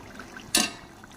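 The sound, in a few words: pouring water into chicken pulao pot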